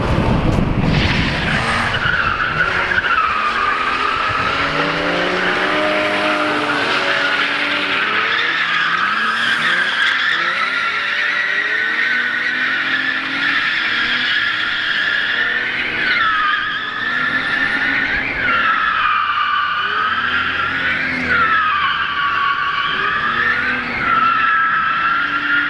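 A car drifts with tires squealing in a long, continuous, loud screech while the engine revs rise and fall beneath it, with no talking.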